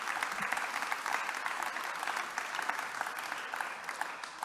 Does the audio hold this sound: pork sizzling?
no